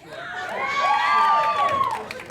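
A stand-up comedy audience cheers, whoops and shouts in a loud, dense swell that builds, peaks and then eases off, with scattered clapping mixed into the crowd noise.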